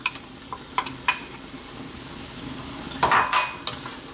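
Pasta hits a hot pan over high heat with broccoli cream sauce, giving a soft sizzle, a few light clinks and scrapes, then a louder burst of sizzling and stirring near the end, close and fairly quiet.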